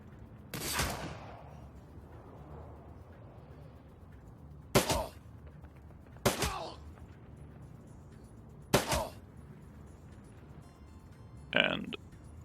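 Sharp, separate gunshots in the Shadowrun: Dragonfall video game, about five of them spaced a second or more apart over a low background hum, each with a short ringing tail.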